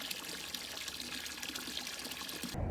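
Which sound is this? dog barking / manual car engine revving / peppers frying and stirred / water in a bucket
water in a bucket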